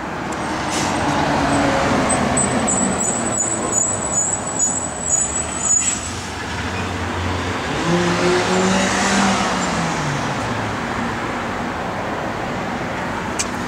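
A 1965 Ford Mustang with brand-new dual exhaust runs steadily, its loud engine rumble continuous throughout, with a brief higher whine early on and a rising rev near the end.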